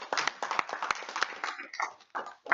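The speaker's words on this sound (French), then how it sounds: "Donc on peut applaudir Nicolas." Audience applause at a Toastmasters club meeting in Toulon, a short burst of clapping from a small crowd, fairly close and moderately loud, with sharp individual claps standing out.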